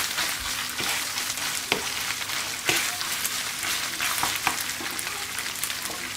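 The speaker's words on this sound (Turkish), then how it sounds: "Şimdi bir karıştıralım" Grated garlic sizzles and fries in a hot pan for Ali Nazik kebab, making a steady crackling hiss close by. Occasional scraping taps from stirring break through it, and no one speaks.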